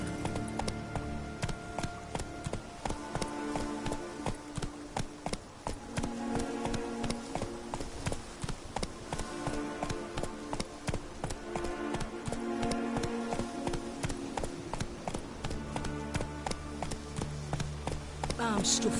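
Hooves of a galloping horse in a video game, a fast continuous clip-clop of rhythmic hoofbeats under music, with occasional voices.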